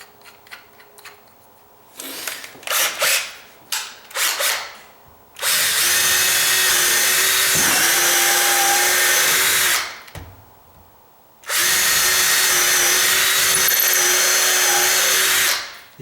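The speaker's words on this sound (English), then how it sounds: "I'm drilling at an angle like that to get into the 2x4" A power drill whirs in a few short bursts, then runs in two long, loud, steady stretches as it bores at an angle into a wooden 2x4.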